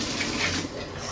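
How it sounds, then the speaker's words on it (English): A shower running with strong water pressure, a steady close hiss of spraying water throughout, no talking. "I don't know if y'all can see how good the shower pressure is, though."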